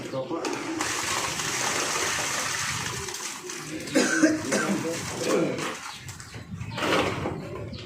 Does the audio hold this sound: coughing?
yes